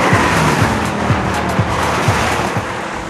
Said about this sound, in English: A lot of wheel spin at the beginning, but lifted off and hooked it